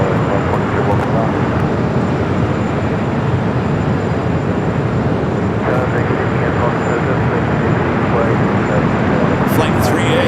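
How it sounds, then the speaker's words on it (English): A British Airways A350-900 airliner taxiing at LAX: a steady, loud broadband engine roar and rumble holds throughout, with faint distant voices underneath. "Speedbird now starts its taxi."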